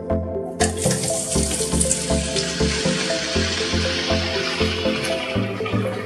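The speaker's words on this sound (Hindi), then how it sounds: "इसमें मैं भिंडियों को फ्राई करूँगी।" Cut okra frying in hot oil gives a loud, close, steady crackling hiss with a fine, rapid bubbling texture, and no voices are heard.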